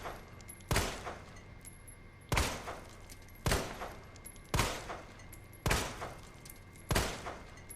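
Handgun shots from Claire's pistol in Resident Evil 2 Remake: six sharp, loud shots spaced about a second apart, each with a short ringing tail. A faint electronic tone hums between the shots.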